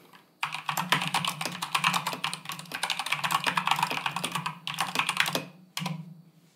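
Rapid, clacky keystrokes on a Keychron K2 mechanical keyboard, close and continuous, with a short pause before a final burst of typing.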